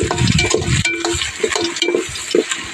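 Onion, crushed garlic, fennel seeds and curry leaves sauteing in oil in a pan over a wood-fired stove, a close, steady frying crackle with repeated scraping stirs and light utensil clinks throughout.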